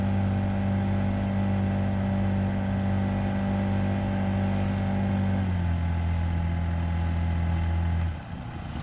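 A Honda outboard engine runs on a Crescent K-Craft boat, a steady droning hum with strong tonal harmonics that holds level, drops in pitch partway through, then cuts off near the end.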